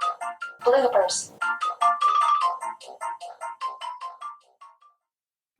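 A phone ringtone goes off up close, a bright melodic jingle of repeated tonal notes that rises and falls in a steady rhythm before cutting off, with a brief burst of voice early on.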